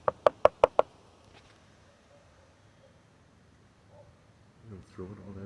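A knuckle knocks five quick, sharp times on wood with ants nesting inside, followed by quiet rustling and someone speaking near the end.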